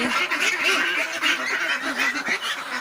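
A loud, dense chorus of ducklings calling and quacking together nonstop, close by and overlapping.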